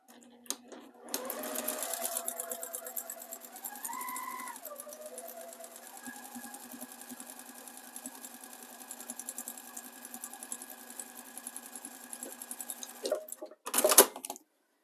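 A sewing machine stitches a row of patchwork quilt pieces, running steadily and fairly quietly for about twelve seconds before stopping, followed by a short burst of handling noise.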